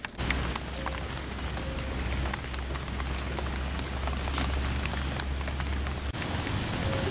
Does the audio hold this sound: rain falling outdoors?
yes